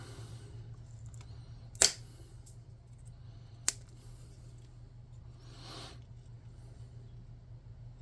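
Cutters snip off a stray bit from a tabletop game scenery piece: one sharp loud snap, then a second fainter click a couple of seconds later, in a quiet room.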